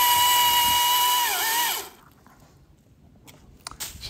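A chainsaw cutting wood runs at a high, steady whine that dips in pitch as it bogs into the cut, then stops abruptly, leaving a quiet pause and a few faint knocks.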